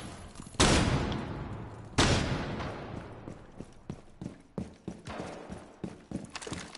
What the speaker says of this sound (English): Oh damn, shots been fired.